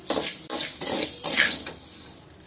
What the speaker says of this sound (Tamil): இந்த அரிசி நல்லா பொரியனாக்கா வர்ற மாதிரி வறுக்கணும்